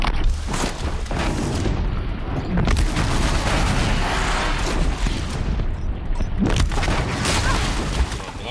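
Sticky bombs exploding in Horizon Zero Dawn during a fight in the Frozen Wilds, several loud booming blasts layered over dense rumbling combat noise, close and continuous.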